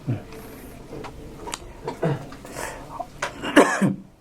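Several rough coughs and throat-clearing bursts come in quick succession, close and fairly loud, mixed with brief bits of someone talking.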